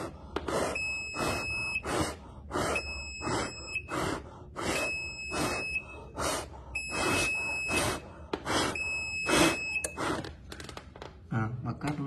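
A piezo buzzer on an ESP32 ammonia gas monitor with an MQ135 sensor sounds in a steady run of sharp, loud electronic beeps, repeating for the whole stretch.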